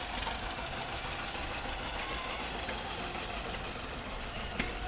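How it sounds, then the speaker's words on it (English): A group of 1937 John Deere Model A tractors rolls past in a Fourth of July parade, their engines giving a steady, continuous broadband chugging rumble at moderate distance with no talk. "A group of 1937 John Deere Model A tractors."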